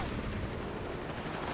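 Dense gunfire from the WWII strategy game Company of Heroes 3, a continuous rattle of shots blending with booming battle noise that stays loud and close for the whole moment.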